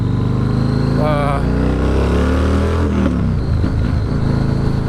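A 2006 Yamaha Warrior ATV engine revs up and down through a loud, throaty exhaust, rising in pitch then dropping, close by and dominant.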